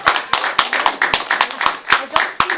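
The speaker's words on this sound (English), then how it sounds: "give her a round of applause" An audience claps in a brisk, fairly rhythmic run of loud, close hand claps, with voices talking between the beats.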